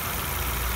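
A 2001 Infiniti G20 with new belts and a timing chain idles in a short, steady, close engine hum with no talk over it.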